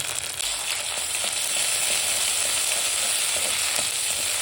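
Ginger and green chili paste frying in hot oil in a pan, a loud, steady, close hiss and crackle that swells slightly after the first second and holds evenly, with faint stirring and no talking.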